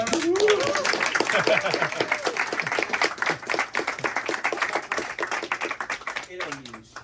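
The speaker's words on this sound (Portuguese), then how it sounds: "Vamos começar então aquecendo as mãos, batendo palmas sempre." A theater audience at a film masterclass claps hands at length, the dense, uneven patter growing into sharp individual claps near the end, with a voice talking over the start and another briefly at the close.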